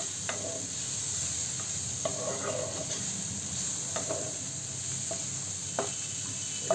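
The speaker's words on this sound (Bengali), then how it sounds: "দেখুন ক্যাপসিকামগুলো বেশ ভালো করে সতে করে নিয়েছি।" Onion and capsicum sauté in a pan with a steady soft sizzle. Brief stirring scrapes break through at intervals, and no one speaks.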